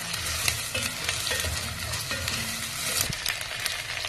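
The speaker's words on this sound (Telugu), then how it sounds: "ఒక్క టేబుల్ స్పూను అల్లం వెల్లుల్లి పేస్ట్ అది కొద్దిగా పచ్చివాసన పోయే వరకు లైట్గా వేసుకోండి" Onion and ginger-garlic paste fry in a pan with a steady close sizzle, broken by the scrape and clatter of stirring throughout, and no voices.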